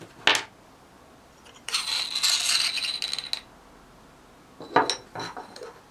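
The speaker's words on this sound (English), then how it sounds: "It's very easy, just unscrew it like that." The metal shroud comes off the barrel of a Grand Power K22 pistol with a sharp metallic clink, then a brisk rasping scrape of threads, followed by a couple more close clicks and rattles.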